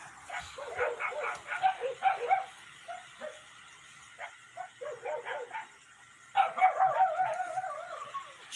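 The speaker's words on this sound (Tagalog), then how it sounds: "maingay ng mga aso." Several dogs bark and yip in bursts, some close and some farther off, with brief pauses between flurries and a renewed round of barking near the end.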